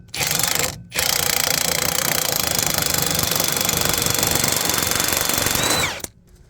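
An impact wrench hammers at a rusted ball joint stud on a Mazda 3: a loud, rapid rattling burst, a brief pause, then a long continuous hammering run that cuts off sharply.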